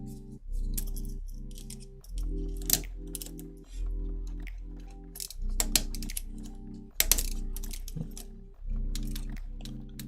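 A ratcheting wrench clicking during assembly of a SecKit SK-CUBE steel-frame 3D printer kit, quiet repeated bursts of rapid mechanical clicks with brief pauses between strokes, close and alone.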